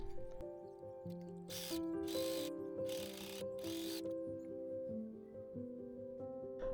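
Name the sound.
overlock serger machine sewing seam allowances of a dress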